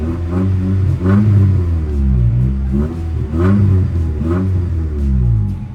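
A Honda D16Z6 engine swapped into an EF hatchback runs close and loud, its revs rising and falling in repeated swells over a rumbling idle.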